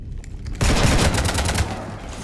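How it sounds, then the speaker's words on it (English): Rapid gunfire in the Mass Effect 3 video game, a loud burst of closely spaced automatic shots over a low rumbling background, starting suddenly and continuing steadily to the end. "You want to stop shooting up my ship?"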